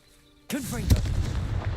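Confringo, a fiery blasting spell in the Hogwarts Legacy video game, bursts in suddenly and loudly with a swooping, voice-like whoosh, then a booming hit and a sustained roaring, crackling rumble.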